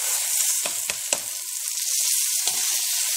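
Rice sizzles steadily in hot oil in a pan while being fried to a golden color for Upper Egyptian rice kofta, with a few soft stirring scrapes over a constant close crackle.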